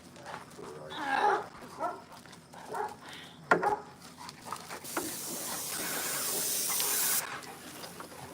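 A dog barks several times close by outdoors on a house deck, and a long steady spray hiss follows.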